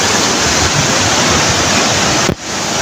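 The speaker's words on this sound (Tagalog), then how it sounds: "Ang ragasan ng tubig, sobrang lakas." Strong rushing river water near Calinawan Cave, a loud continuous roar close by that cuts off abruptly near the end.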